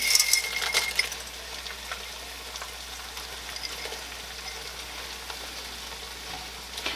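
Frozen peas, carrots and corn sizzling quietly in a pan for shepherd's pie, a soft steady crackle with a few light clinks early on, fairly faint and unbroken by talk.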